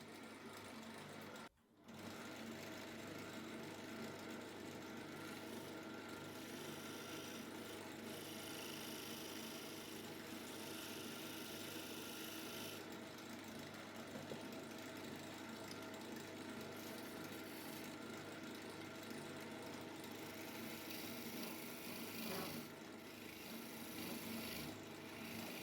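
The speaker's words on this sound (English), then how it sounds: "now I'm going to shear scrape the inside of the bowl to get a nice clean finish" A shear scraper works steadily around the inside of a bowl turned from scrap wood, giving a continuous, close, even rasping scrape that runs for the full stretch with no pauses or talking.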